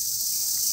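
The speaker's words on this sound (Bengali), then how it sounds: "এইসব পোকার ডাক আমাদের এখানে একদম কম, কিন্তু এইখানে প্রচুর পরিমাণে" Insects chirp in a dense, high, continuous shrill with no break, fairly faint and with no voices.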